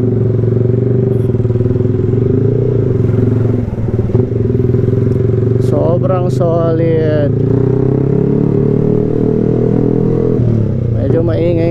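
A 2017 Yamaha R15 v3 motorcycle with an open exhaust pipe, riding with a loud, constant, raspy engine drone close to the microphone. Someone talks briefly over it, with wind buffeting throughout.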